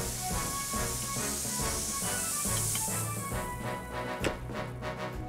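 In a cartoon, a water spray puts out a fire on dry grass in the mountains, a loud continuous hiss over a busy musical background that thins out toward the end.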